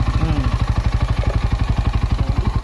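A Rusi Sigma 250cc motorcycle engine fitted with a Keihin Sudco flat slide carburetor runs loud and close, with a steady, fast train of even thumping firing pulses throughout.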